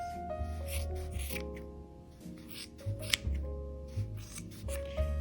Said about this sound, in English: with the scissors, we're just gonna cut the loops that we made on both sides